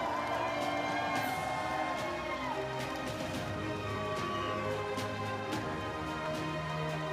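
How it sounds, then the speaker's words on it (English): A large crowd at a Stihl Timbersports rookie world championship evening in Budapest cheers and applauds the podium finalists, a dense continuous roar with whoops and shouts, while a music bed and an announcer's voice carry on underneath. "Let's make a bigger round of applause."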